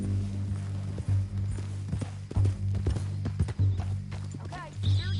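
Horse hooves clip-clopping in the Red Dead Redemption 2 video game, a steady walking rhythm of hoof strikes near and clear, with game voices talking over them and a brief whinny toward the end.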